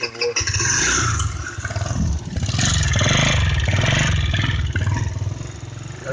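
A Gator 50 moped's small engine runs steadily at close range, a loud, continuous buzzing idle with slight rises in revs throughout.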